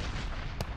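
A dense, continuous rumbling explosion in Minecraft with a sharp crack near the end, loud and filling, with no voices.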